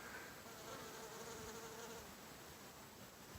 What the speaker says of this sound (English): it's just covered with different types of bees. A lot of honeybees